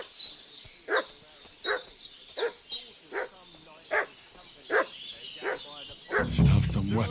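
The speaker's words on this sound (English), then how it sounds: "What's that dog making such a fuss about?" A dog in the video game Kingdom Come Deliverance 2 barks steadily in evenly spaced, moderately distant yaps over a low ambient background, ending in a louder rumbling burst.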